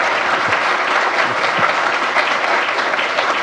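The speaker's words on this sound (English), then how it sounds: "give him a round of applause for that." Audience applause closing a talk on nonprofit board governance and leadership, a dense, steady clapping from a full room that holds at an even level throughout, with no voices standing out.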